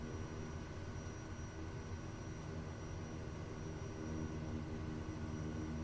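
A Kodiak 100 turboprop idling in the simulator game Flight Simulator 2024, a constant low, faint engine drone with a steady whine and no talking.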